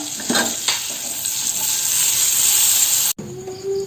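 Half a tablespoon of butter sizzles loudly and steadily in a hot pan on a stove, with a few stirring scrapes, then cuts off sharply before softer frying resumes.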